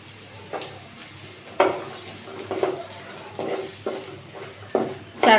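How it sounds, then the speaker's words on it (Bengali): Carrots for chowmein fry in a pan, a soft steady sizzle broken by several clattering stirs and scrapes of a utensil against the pan. "চার 5 মিনিট ধরে গাজরটা একটু ভেজে নিব"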